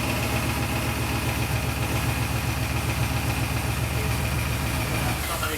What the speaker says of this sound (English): Starting up as an 8-cylinder.